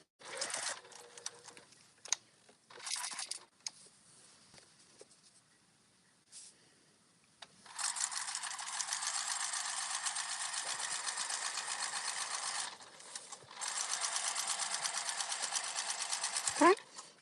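Sewing machine running long top-stitching lines, a steady rapid mechanical whir in two sustained runs after a few short bursts, close and fairly loud, with brief speech near the start.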